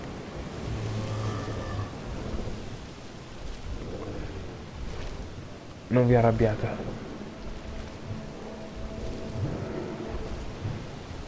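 A thunderstorm in the video game Jurassic World Evolution, with steady rain throughout and a brief rumble of thunder, under someone speaking Italian and some game sounds.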